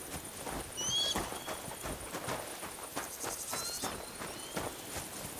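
Horse hooves thud in an uneven walking rhythm in Kingdom Come: Deliverance II, close and moderately loud, with crickets chirping steadily through an outdoor night-like backdrop.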